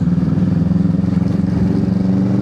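Hyundai Elantra engine idling with a misfire on cylinder 3, a close, loud, uneven chugging rumble with a rhythmic pulsing stumble throughout.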